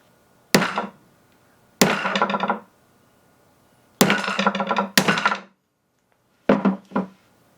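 Close, loud blows against a food processor casing on a table to pop it open, with no hammer used: five or six heavy knocks in spaced groups, each followed by a short rattling ring.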